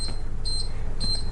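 A Buzzaround XLS HD four-wheel mobility scooter left in neutral gives two short, high-pitched electronic beeps, evenly spaced and clear over a low background rumble.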